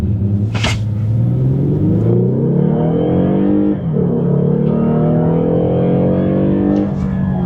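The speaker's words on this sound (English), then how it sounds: "Okay, we're going to test the acceleration on this." A 2013 Lexus GS F Sport AWD accelerates hard from inside the cabin, its engine note climbing steadily in pitch with a brief dip as it shifts gear, then rising again over a constant loud road rumble.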